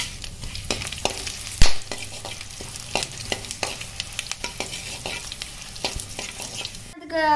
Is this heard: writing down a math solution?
no